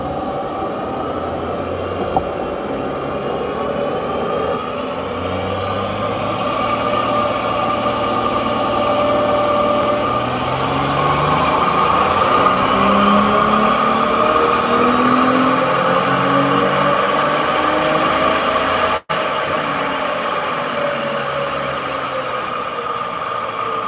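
BMW 440i on a dyno, its engine revving in a steady, loud pull with rising tone, droning continuously and close throughout with a brief dropout near the end.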